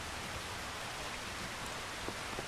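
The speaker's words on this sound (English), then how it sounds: "And it is raining." Steady rainfall in a farming video game, a dense even hiss of rain on surfaces holding constant for the whole stretch with no voices.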